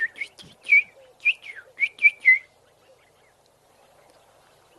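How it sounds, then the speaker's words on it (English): A cluster of bright bulbul calls, several short whistled phrases in quick succession, then near silence with a faint low coo of a red-eyed dove in the background. "There's some bulbuls calling."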